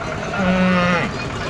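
A Jersey cow lows once, a long, loud moo at the busy Sunday cattle market in Sangola, Maharashtra, over a low background murmur.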